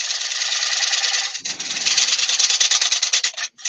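A steel chisel worked into wood, a continuous close rasping scrape that briefly cuts out near the end, with no talking over it.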